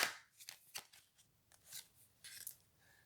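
A deck of playing cards riffled and shuffled at close range, with a series of crisp ruffling bursts and brief flutters spread across a few seconds, fairly quiet with no talking.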